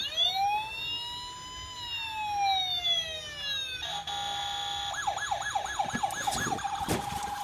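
A My First Tonka Mighty Wheels Fire Rescue toy fire truck plays electronic siren wails that sweep down, then switches to a fast warbling yelp, ending in a few sharp clicks; close and clear, with a brief voice.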